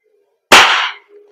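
A WE M1911 MEU black airsoft gas blowback pistol fires one sharp, loud crack up close. The shot snaps off quickly over an otherwise quiet background with only a faint low hum.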